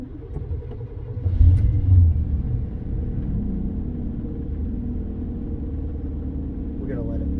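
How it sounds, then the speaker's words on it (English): The old 350 engine of a 1993 Chevy G20 camper van idles with a steady low rumble after a brief swell near the start, and voices can be heard faintly over it. "We're going to let it run idle. It's like an old 350 motor."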